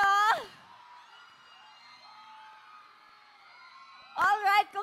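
A concert crowd shouts and whoops loudly in bursts at the start and again near the end, with a steady sustained tone in between.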